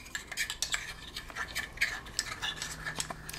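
A spoon stirs powdered medicine into a small amount of liquid, producing quiet, irregular clinks and scrapes against the container, close and soft with no talking.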